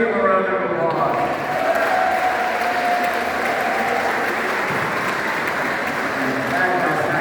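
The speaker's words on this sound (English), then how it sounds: "So let's give them a round of applause." Audience applause inside a church at a 40th anniversary event, a sustained, even wash of many people clapping that fills the room and carries on steadily without pause.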